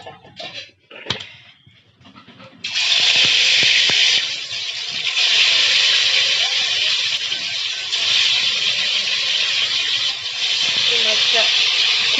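Magur catfish hits hot mustard oil in a heated pan, a sudden loud, sustained sizzling hiss that starts a few seconds in after some quieter handling sounds and continues steadily.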